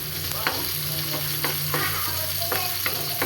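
Garlic and ginger sauté with onion in a hot pan, a loud continuous sizzle broken by repeated scraping stirs of a utensil at an uneven rhythm, close and without talk.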